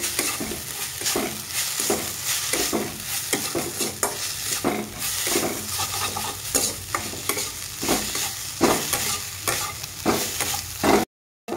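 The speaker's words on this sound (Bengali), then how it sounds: "তো ভালোভাবে মশলার সাথে মিশিয়ে নিব।" Potatoes frying in a pan with salt, turmeric, cumin and coriander powder are stirred steadily, a continuous sizzle with repeated scraping strokes, close and loud, with no talking.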